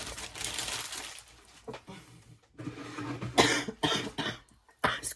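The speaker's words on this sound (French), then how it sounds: "j'ai la toux." Several rough coughs in short bursts, with a pause between groups and some faint rustling in the background.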